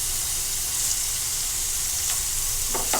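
A second batch of paneer fries in hot oil, giving a loud, steady sizzle with a couple of faint scraping turns near the end.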